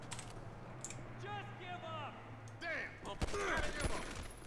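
Gunfire in the video game GTA V during a police shootout, a burst of rapid shots over game sound effects and a steady background drone, with a voice audible.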